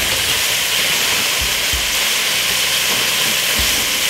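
Cabbage stir-fried with frozen corn and green peas in a pot, a steady broadband sizzle running throughout with a few soft low knocks of stirring, no talk.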